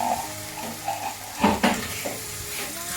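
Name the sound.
sauce poured over Kung Pao chicken, sizzling and stirred in pan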